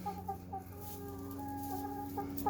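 Baby Cornish chickens cluck and peep close by in a few short, repeated chirps over a quiet, steady background hum.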